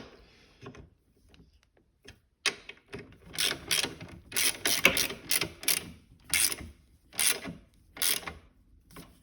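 A ratchet wrench tightens the bolts of a rear rack on a Honda Navi, giving bursts of rapid clicking in quick strokes, close and loud with short pauses between them.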